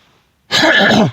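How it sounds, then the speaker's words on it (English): A single loud, harsh throat clearing right up close, a rough rasping burst lasting just over half a second after near silence. "excuse me for clearing my throat"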